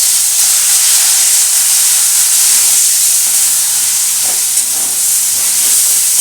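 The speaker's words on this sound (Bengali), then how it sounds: "এবার আমি এই টমেটো কুচিটা দিয়ে দেবো" Chopped tomato hits frying onions in a pan for a spicy Bengali bok fish curry, giving a loud, steady sizzle and hiss that fills the whole stretch with no talking.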